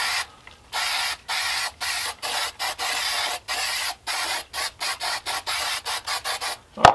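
Super 77 spray adhesive is sprayed onto burlap fabric for a mask in a series of short hissing bursts, over a dozen quick sprays in an uneven rhythm, close and fairly loud.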